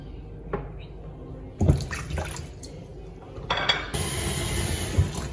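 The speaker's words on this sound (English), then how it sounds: "Then I'm going to rinse my plantain because you don't know where it has been, so it's good to just rinse it." Plantain rinsed under a running kitchen tap, with water splashing and dripping close by in uneven bursts and a steady stream rising toward the end.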